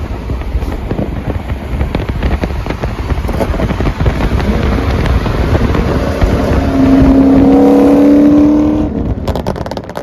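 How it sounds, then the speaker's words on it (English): A loud 2007 C6 Corvette engine drones steadily with sharp crackling exhaust burbles and pops scattered throughout, and a rising exhaust tone swells near the end before fading. "If you guys have ever heard the burbles,"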